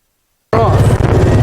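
After a moment of silence, a vehicle in four-wheel drive low, pulling on a strap to drag pine logs, suddenly revs up into a loud, close, rough engine roar with a rising pitch.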